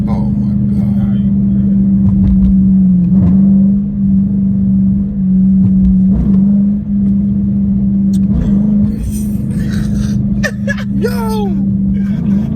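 A car fitted with a Pedal Commander throttle controller accelerates and downshifts, its steady engine drone rising and dipping with blips, close and loud, while people talk and shout excitedly over it.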